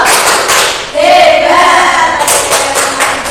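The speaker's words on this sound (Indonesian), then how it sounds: "Sekarang kita tepuk hebat." Children in a primary school classroom chant the rhythmic 'tepuk hebat' clapping routine together. Loud group voices carry a sung tune, with hand claps and thumps accenting the beat.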